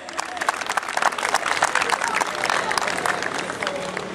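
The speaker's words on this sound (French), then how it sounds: "faire un tonnerre d'applaudissements pour un pays qui me marque moi particulièrement" An audience at an African festival celebrating Morocco's Throne Day applauds for Cameroon, a busy crackle of many hands clapping at moderate volume, sustained across the moment with crowd noise underneath.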